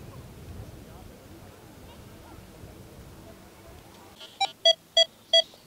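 A metal detector on a seaside beach gives four short, sharp electronic beeps in a quick run, after several seconds of low surf and wind noise.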